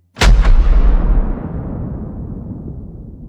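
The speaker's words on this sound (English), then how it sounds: "the ancient cannon loosed its deadly payload" A single deep, powerful cannon blast, close and very loud, followed by a long rumbling decay that fades slowly.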